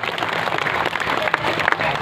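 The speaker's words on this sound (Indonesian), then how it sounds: "Tepuk tangan dong buat Karang Tarunanya." An audience at a community youth concert for an Isra Mi'raj celebration applauds loudly, with steady crowd clapping and a few sharper claps standing out over a short span.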